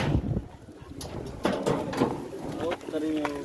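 Pigeons kept for sale on a rooftop coo softly among other birds, with a low throaty warble rising near the end, partly under someone talking close by.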